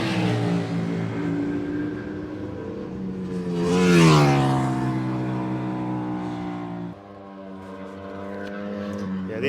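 Motorcycles at full pace during a track day session on the Silverstone GP circuit, engines rising in a loud pitch sweep as one passes close, then a steady fainter drone with a gear change, under background talk.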